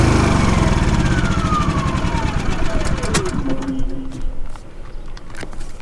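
Champion 2800 watt inverter generator powering an RV air conditioner while boondocking, a steady loud engine drone with a falling tone sweeping down over several seconds, then a settled hum.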